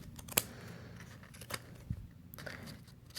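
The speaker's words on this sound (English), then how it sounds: "A sharper pair of scissors than I'm using is probably advisable." Scissors snip yarn on a loom-knitted bunny in a few sharp, separate cuts at close range, with quiet pauses between them; the blades are fairly dull, and there is no talking.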